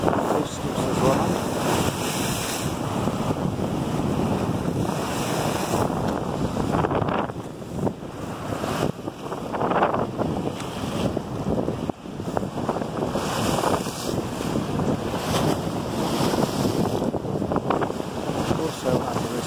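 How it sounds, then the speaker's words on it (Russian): Rough sea surf and strong wind on the central embankment at Berdyansk in winter, a continuous loud roar of breaking waves with heavy wind buffeting the microphone throughout, no talking. "Море волнуется."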